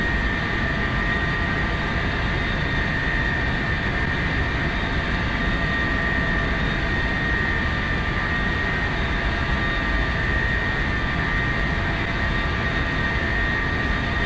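Lockheed TriStar jet engines whine steadily in a flight simulator game, a constant high tonal hum over a broad low rush, unchanging and moderately loud for the whole stretch with no speech.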